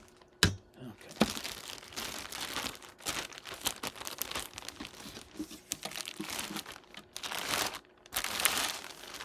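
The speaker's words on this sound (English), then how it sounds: "Unboxing fun." Packaging crinkles and rustles while a HumminGuru EZ manual record washer is unboxed, close, irregular bursts of crumpling plastic and paper with sharp snaps and tearing-like scrapes, quiet between handling.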